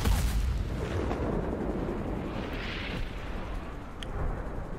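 A loud explosion in the A Way Out video game, a heavy sustained boom and rumble that rolls on for several seconds with no talk over it.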